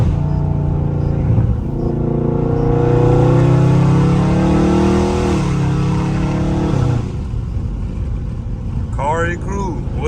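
Dodge Charger Scat Pack accelerating hard in sport mode, a loud rising engine roar with deep exhaust rumble heard from inside the car, building then easing off before a brief voice near the end.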